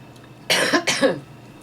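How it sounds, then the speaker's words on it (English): A man coughs while swallowing, two quick harsh coughs close to the microphone against quiet background, with no speech. "Sorry, I just coughed when I was swallowing."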